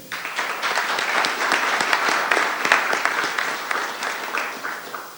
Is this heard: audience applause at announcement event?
yes